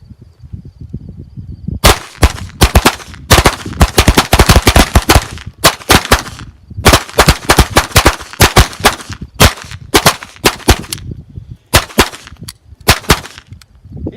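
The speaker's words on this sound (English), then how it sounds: "We're going to shoot our Ruger Mark pistols." Rapid volleys of sharp, loud pistol shots from Ruger Mark I and Mark II .22 pistols at an outdoor range, clustered in quick strings with short pauses between them.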